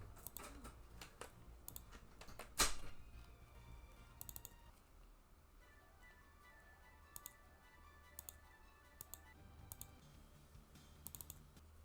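A new computer keyboard being typed on in bursts of quiet clicky keystrokes, with one sharper loud clack early on and scattered tapping afterward over a faint background.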